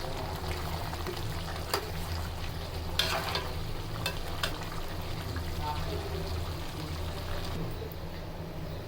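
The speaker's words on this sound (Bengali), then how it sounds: "কিছুক্ষণ নেড়ে নিয়ে আমরা আবার আরো কিছুক্ষণের জন্য ঢেকে দেব।" Beef being stirred as it fries in a pot for a Bengali potato and beef bhuna, a steady low sizzle with occasional scraping knocks of the spoon, close and continuous.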